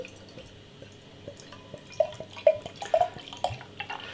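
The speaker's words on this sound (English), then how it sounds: "I just quickly grab the glass and give it a rinse" Water trickles and drips while a beer glass is rinsed, scattered small splashes and taps growing busier toward the end, close and quiet.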